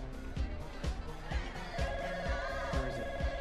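A telephone bell rings in a home in repeated short bursts, moderately loud and close, with faint background sound between the rings.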